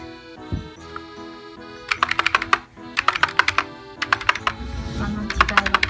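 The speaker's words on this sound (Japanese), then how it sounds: "今まで使っていたキーボードです。" Typing on an old, noisy, non-silent computer keyboard: rapid bursts of loud, clicky keystrokes in quick rhythmic runs, close and clear, with brief pauses between bursts and a faint voice early on.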